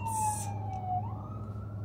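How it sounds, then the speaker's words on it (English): Emergency siren from outside, heard while sitting outdoors: a single wavering wail that dips and then rises again, moderately loud over steady low traffic rumble. "Oh, it's the ambulance."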